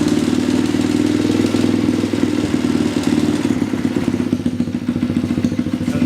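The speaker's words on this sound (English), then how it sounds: "I'm going to warm up this engine a little bit before we drop the oil out of it" A dirt bike engine idles to warm up in a garage before an oil change, a steady, close, mid-pitched putter with a rapid mechanical clatter that grows slightly rougher toward the end.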